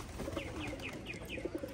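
Racing pigeons coo in a loft in a soft, repeated rhythm, several low throaty calls overlapping at close range with light background noise and no speech.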